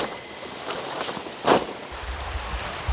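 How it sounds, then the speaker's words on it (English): Soft footsteps approach a campsite in the Washington State woods, faint and irregular against rustling ground noise, with one firmer step standing out partway through. "I began to hear footsteps coming near me"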